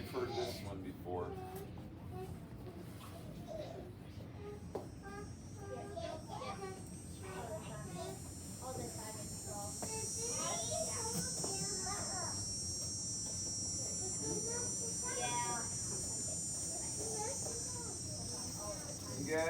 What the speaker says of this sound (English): You guys have heard cicadas.